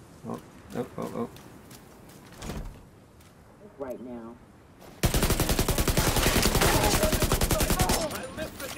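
Gunfire from the video game The Division 2 hits as a sustained, loud rapid-fire burst in the second half, preceded by scattered game noises and shouts, with players talking.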